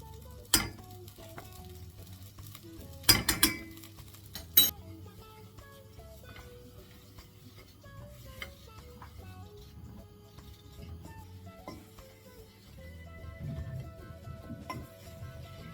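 Corn flour roasting in a pan with a little olive oil, stirred with a utensil: soft scraping and faint sizzle run throughout, broken by a few sharp metallic clinks early on, fairly quiet and close.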